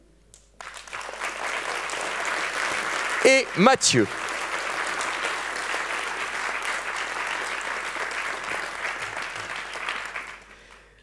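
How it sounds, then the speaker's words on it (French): An audience at an eloquence contest applauds the speakers, sustained even clapping that fills the room for several seconds; someone speaks briefly over the start before the applause carries on alone and fades. "Et nous voudrions également que vous applaudissiez personnellement"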